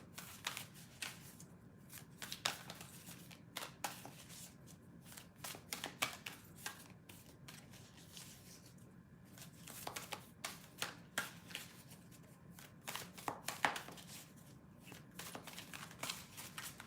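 A tarot card deck that sticks is shuffled by hand, giving quiet, continuous riffling and flicking with uneven bursts of card slaps, faint and close, with no talking.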